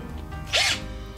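An IKEA FIXA cordless screwdriver drives a screw in a short, close whirring burst of about a quarter second in a quiet room.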